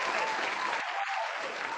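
Audience applause at a mind session, an even, continuous wash of many clapping hands, moderately loud throughout the short stretch.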